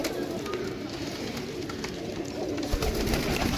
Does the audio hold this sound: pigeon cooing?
yes